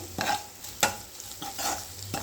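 Onions sautéing in a pan while being stirred, a soft continuous sizzle broken by four distinct scraping strokes of a spoon against the pan, close and moderately quiet, with no voices.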